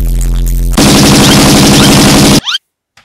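Roblox game gunfire: a loud, rapid automatic burst of evenly spaced shots runs close for over a second and a half, then cuts off abruptly into silence with a brief tail.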